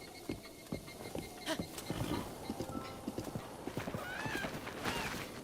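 A horse in Zelda: Breath of the Wild trots with rhythmic hoof clip-clops, a whinny rising near the end over a faint insect buzz in the background.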